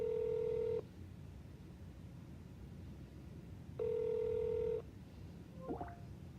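A telephone call to a prison office at MCI Concord is put through, giving two long electronic tones separated by quiet line hiss, then a short flurry of dialing beeps near the end, with no voices.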